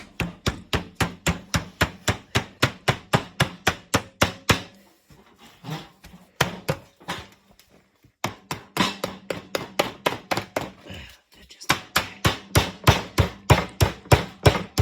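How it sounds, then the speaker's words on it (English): Rapid metallic hammer blows ring out as sheet metal edges are hammered down, in fast regular bursts, pausing briefly midway before resuming at a steady pace, loud and close. "we have all our edges that we hammered down on the top and the bottom"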